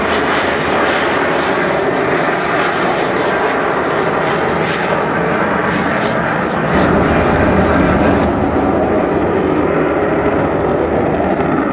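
Avro Vulcan XH558 jet bomber flying at an air show, its engines a loud, steady, continuous roar that swells slightly partway through, heard up close without pause for about twelve seconds.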